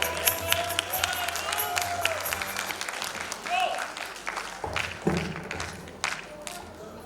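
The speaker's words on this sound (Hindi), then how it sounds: "एक बार जोरदार फिर से तालियां हो जाए" An audience breaks into loud, sustained applause after a stage performance at a grand finale event, with clapping from a crowd near and far, cheers rising and a voice speaking over it near the end.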